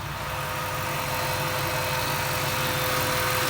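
A Jeep Wrangler with a swapped-in LS V8 idles steadily nearby, a constant low mechanical drone with fan whir and no voices.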